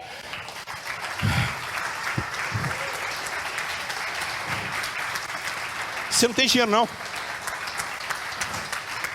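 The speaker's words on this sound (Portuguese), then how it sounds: "Deus merece uma salva de palmas" A church congregation claps for God during a sermon, a steady wash of applause beneath a preacher's continuing voice, with a brief louder burst of cheering near the end.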